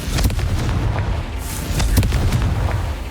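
Confringo fire spell explosions in Hogwarts Legacy, heard as loud booming blasts and crackling impacts over constant game background noise.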